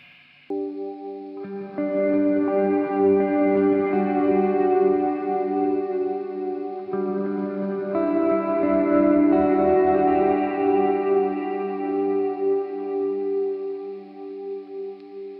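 Electric guitar on the neck pickup, set toward a humbucker tone, played through a worship-style pedalboard with a very wet reverb: sustained chords ring out and swell into long, washy tails, with a second chord midway, no voices.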